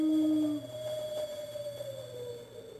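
A dog howls in the retro console game Castlevania: Rondo of Blood, one sustained wavering howl over steady game music, fairly clear and up front for a few seconds.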